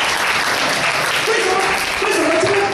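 Dense, steady applause from a church congregation during a sermon, a continuous wash of many hands clapping with a voice briefly rising over it near the end.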